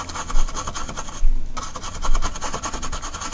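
A paintbrush rubbing paint onto canvas in a grayscale painting, a close rasping scrub in repeated back-and-forth strokes with a short pause in the middle.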